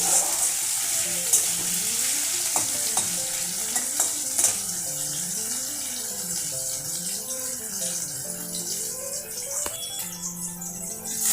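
Potatoes sizzle in a pan after salt is added, with a steady frying hiss under repeated stirring and the scrape and clack of a spatula against the metal, close and continuous, with no voices.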